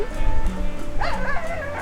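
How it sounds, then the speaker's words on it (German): Several dogs bark, yip and whine from different directions on a Sardinian road trip, a dense continuous chorus with howling mixed in, fairly close and loud, with some voices in the background. "Überall Hunde von allen Richtungen."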